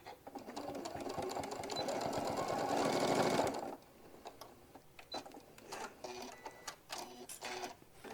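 Sewing machine stitching a seam on a hobo bag runs in a steady, loud whir for about three and a half seconds, then stops and starts in short clicking bursts.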